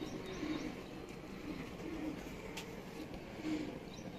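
Pigeons coo in a loft in soft, low repeated phrases at a moderate distance, with a steady background hum and a few faint chirps.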